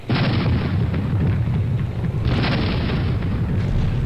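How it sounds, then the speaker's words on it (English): A double cannonball barrage from airship cannons in Air Buccaneers comes as two long, loud rumbling bursts of cannon fire. The booms fill nearly the whole stretch with heavy low-end roar. "I think we did a double cannonball barrage that brought you down"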